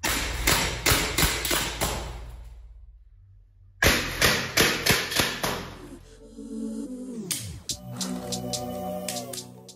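A cal.68 HDR pistol firing rounds into a copier/scanner: two quick volleys of sharp, close cracking impacts, each about five or six shots, separated by a pause and followed by a fainter ringing, scraping aftermath.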